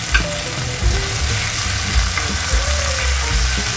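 Shrimp paste (alamang) sautéing in a pan for vegetable pinakbet, a loud continuous sizzle with occasional stirring scrapes and bumps, close up and without talk.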